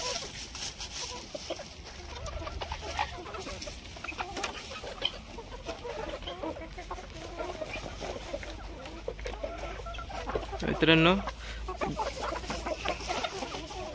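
Faint hen clucks and scattered bird noises on a poultry farm with guinea fowl, under a steady outdoor hum, with one brief louder squawk near the end; a voice speaks briefly.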